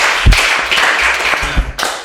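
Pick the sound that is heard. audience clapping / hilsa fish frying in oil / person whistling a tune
audience clapping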